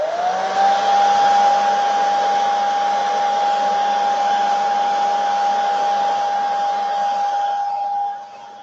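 A hair dryer drying paint runs steadily at close range with a loud whooshing hum and a faint whine, then cuts off abruptly near the end.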